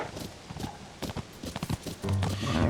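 A horse in the video game Zelda: Tears of the Kingdom trots with an uneven clip-clop of hooves, then gives a short whinny near the end, with no talk.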